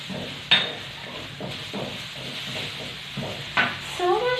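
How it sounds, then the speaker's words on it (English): Chopped garlic, ginger and onions sautéing in a wok, soft sizzling under repeated scraping stir strokes, with a few sharp utensil knocks against the pan. "So I'm gonna show you how I saute."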